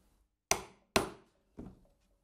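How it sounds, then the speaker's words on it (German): Three sharp, separate blows of a screwdriver hammered through leather to punch clasp holes in a handmade leather satchel, each strike close and crisp with a short decaying ring, set against silence. "das haue ich einfach mit dem Schraubenzieher durch"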